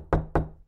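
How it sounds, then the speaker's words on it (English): Two firm, loud knocks on a door, close by and evenly spaced, each with a short resonant thud, and no voices. "Hold on, someone at the door."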